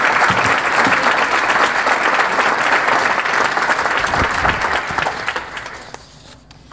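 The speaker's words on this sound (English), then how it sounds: "Can we give them another round of applause?" A breakfast event audience gives a loud, sustained round of applause, dense clapping filling the room for several seconds before thinning and fading toward the end.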